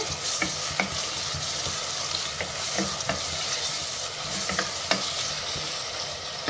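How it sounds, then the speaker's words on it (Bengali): Beef cooked with chui jhal stir-fried over a high flame, continuous loud sizzling with repeated sharp scraping and clacking of a spatula against the pan, close and steady, without talk. "আমি আবার সুন্দর মতো কষাবো চুলা কিন্তু এরকম হাই ফ্লেমে থাকবে"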